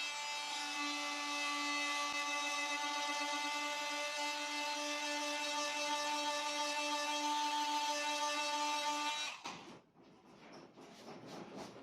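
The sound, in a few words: Ingco 20V multi-tool sanding wood with 120-grit paper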